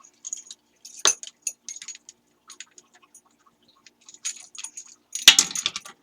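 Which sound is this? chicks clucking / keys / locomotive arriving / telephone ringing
keys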